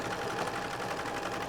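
An upholstery sewing machine hums in a continuous run while stitching a box cushion cover, steady and close throughout.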